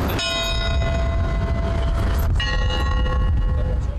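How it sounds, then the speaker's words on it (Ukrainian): Memorial funeral bell tolling at the St. George's bell tower, with loud, booming strikes whose long metallic ringing overlaps and sustains, a fresh strike landing midway, heard close and alone. "Про пам'ять, що житиме у серцях земляків вічно, сповістив поминальний дзвін на Георгіївській дзвіниці."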